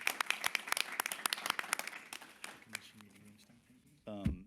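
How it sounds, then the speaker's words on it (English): A meeting audience gives a brief round of applause for agency staff at a consumer advisory committee meeting, a dense patter of claps that fades out within a few seconds before a voice begins speaking. "So if I could just ask for a quick round of applause for all of our FCC staff for all their hard work."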